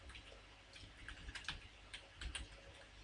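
Fingers typing on a computer keyboard while entering a batch script command, a quiet, irregular run of light key clicks with a few firmer taps, close and faint with no talk.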